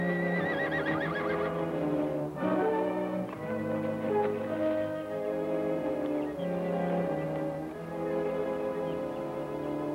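A horse whinnies and neighs over a dense orchestral score in a vintage western television episode, the animal's calls blending into continuous loud music with no talking.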